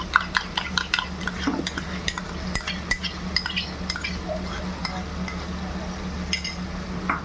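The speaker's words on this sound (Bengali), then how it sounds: "আর এর মধ্যে এখন চলে যাবে টক দই, একটু মিশিয়ে নিই" Metal spoon clinking and scraping against a pot as sour yogurt is stirred into prawn korma masala, a steady run of close, sharp clinks over a low background hum.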